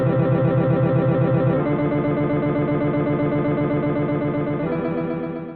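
A dense, continuous stream of rapid electronic notes, one for each salmon swimming up the Columbia River, forms a loud, buzzing wall of tones that shifts pitch slightly twice before fading at the end.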